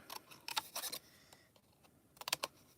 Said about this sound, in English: You can take a thin piece of heavy cardstock, like what I have here, and you cut it